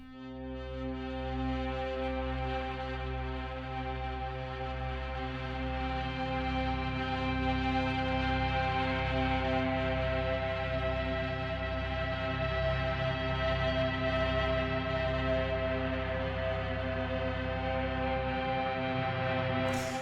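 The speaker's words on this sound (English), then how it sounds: "I have these guitar harmonics going on that sound like this." Layered guitar harmonics ring in a sustained, bell-like texture from a Nordic folk-style score, holding as a dense continuous wash for about twenty seconds at even volume, no voices.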